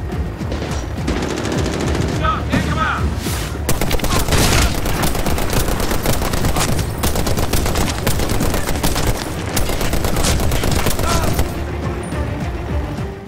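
Sustained machine gun fire in the video game Medal of Honor Warfighter, a loud dense stream of rapid shots with occasional booms, running almost unbroken throughout.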